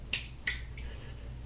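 A wet shaving brush, just dunked in a sink, is shaken out, giving two sharp splashy flicks of water close by, followed by quieter dripping.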